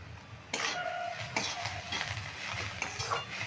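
A spatula scrapes and pushes potato posto with onion, salt and turmeric around a pan, giving repeated loud scraping strokes with a faint sizzle underneath, close and uneven in rhythm.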